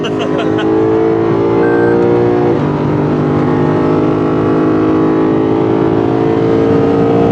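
A Lexus RC F at speed on a race track, its engine droning loud and steady from inside the cabin, with a brief drop in pitch at a gear change midway.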